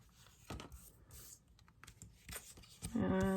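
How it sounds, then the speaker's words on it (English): Scissors cutting a paper story label in half right across the middle give soft, close snips and crisp paper rustles at an uneven pace, with a brief tonal sound rising at the end. "you're going to cut this in half right across the middle"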